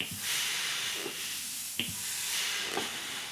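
Breathy hiss and air noise from uilleann-style bagpipe pipes fed by a leather bag, a steady broadband rush with soft bursts and brief clicks, close and alone with no talk.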